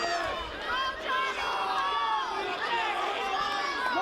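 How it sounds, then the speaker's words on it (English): Street crowd at an outdoor wrestling event at a festival, a mass of voices shouting and chanting together at a moderate distance, with a commentator talking over the noise. "You hear the crowd. Jonny Taco chants ringing throughout the street"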